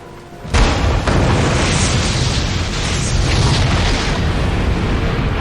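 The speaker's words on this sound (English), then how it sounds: "There's the rocket. Blow it up." A V2 rocket blown up in Return to Castle Wolfenstein: a sudden loud blast after a brief quiet lead-in, followed by a sustained heavy roaring rumble of the explosion that carries on for several seconds.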